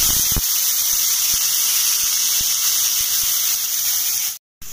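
Radish greens hit hot oil seasoned with five-spice, giving a loud, continuous sizzling hiss with a squealing edge, steady throughout apart from a brief dropout near the end.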